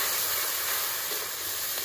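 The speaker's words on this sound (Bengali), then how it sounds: "মশলা খুব ভালো করে কষিয়ে নেব" Spice paste of ground chillies, salt, turmeric and a little water frying in a pan, cooked down for a silver carp and cauliflower curry, gives a steady loud sizzling hiss that runs unbroken and close.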